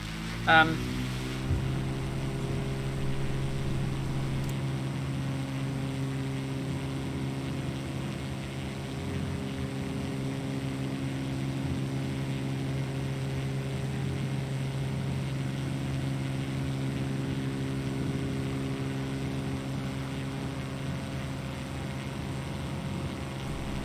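Propeller aircraft engine in a flight simulator game, with an unusual engine arrangement, runs at a steady droning pitch through the takeoff roll in rural Australia, loud and continuous throughout.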